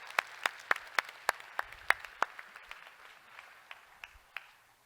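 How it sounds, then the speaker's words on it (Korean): A small church congregation gives a sparse round of applause of encouragement, with a dozen or so distinct claps in a loose rhythm that thin out and space apart. "우리 다시 한번 박수로 격려하겠습니다."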